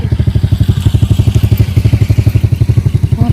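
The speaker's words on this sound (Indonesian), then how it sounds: "Motor." Close, loud motorcycle engine idling with a rapid, even chugging pulse and a slight rattle, running steadily throughout.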